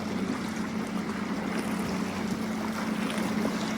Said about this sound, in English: Boats passing.